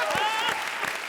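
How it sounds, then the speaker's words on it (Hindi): A short burst of audience clapping at a comedy show, dense and close, with a voice and tonal music sounding over it. "जोरदार तालियां।"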